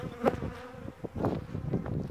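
Honeybees buzz around an open hive during a spring inspection, a close, dense hum with individual bees droning past in short swells.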